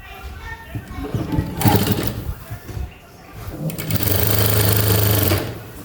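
A sewing machine stitches a folded hem on a baby cap, with two loud close bursts of rapid whirring, one short and one longer, and a voice speaking between them.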